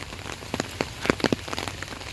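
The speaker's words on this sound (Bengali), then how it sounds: "অসাধারণ পরিবেশ আজকে, একদম গুড়ি গুড়ি বৃষ্টি হইতেছে।" Light drizzle in a village during a rainy-day walk, soft scattered raindrop taps pattering on a surface, likely an umbrella, close by over steady background hiss, with no voices.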